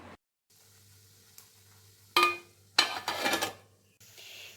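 A lid goes onto a cooking pan on low heat while making egg and potato dhokar dalna, with a couple of sharp metallic clinks and clatter over a faint kitchen hum.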